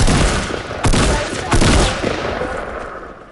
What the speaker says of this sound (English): Bro, what y'all shooting me for?